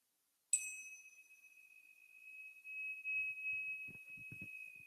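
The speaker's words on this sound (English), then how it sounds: "when you hear the sound, the bell, just marking the end of this practice" A single meditation bell struck once to close a mindfulness practice rings out clearly in a quiet room, its pure tone sustaining and slowly fading over several seconds while faint rustles and movement sound near the end.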